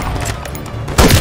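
Gunfire in the snowy battle of the Modern Warfare III video game, rapid rattling bursts with a heavier blast near the end, loud and close amid dense battle noise.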